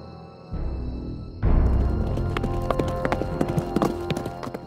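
A horse breaking into hooves clattering on hard ground, a rapid clip-clop of gallop starting abruptly and continuing loud and near, a sound effect in a dramatized history narration.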